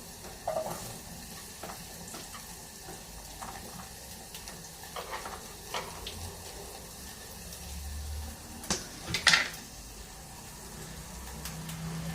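Carrot pieces for chutney sizzle and fry in a pan, a quiet continuous crackle with occasional clinks and scrapes of stirring, faint and close throughout.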